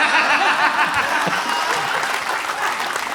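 Audience applause in a studio at a Gujarati comedy talk show, steady clapping filling the whole stretch with a few chuckles mixed in, dense and moderately close.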